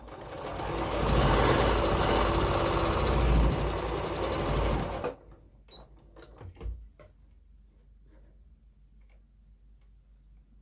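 A sewing machine stitches around a quilt square a quarter inch from the edge, running as a loud, steady whirring hum for about five seconds, then stops, followed by a few scattered clicks and handling taps.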